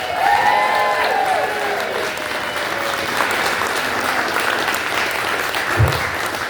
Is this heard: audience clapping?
yes